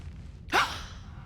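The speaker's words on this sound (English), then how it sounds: "Still gasping and gagging on the foul airs of Baal's temple." A character in Baldur's Gate III gasps sharply once, a short breathy intake that rises over a low ambient game background, close and alone.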